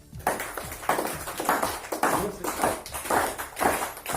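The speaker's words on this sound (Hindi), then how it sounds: "जब सभी ने मिलकर ताली बजाई" An audience in a closed room claps together in loud, regular bursts, roughly six sharp rounds of collective clapping in steady rhythm, with no speech over it.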